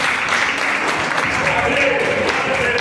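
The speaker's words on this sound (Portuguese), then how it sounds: "Aplauda o Senhor em nome de Jesus." Steady, dense applause from a church congregation during a worship service, continuous clapping at even loudness throughout with no pauses.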